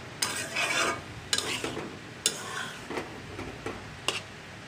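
Rohu fish roe frying in a pan, a steady sizzle broken by repeated stirring scrapes and clacks of a spatula against the pan at irregular intervals, close up with no talk.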